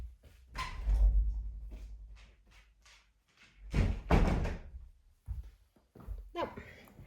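Door thuds open and knocks shut as a dog is let into a room, with scuffling footsteps and movement, while a person talks over and between the sounds.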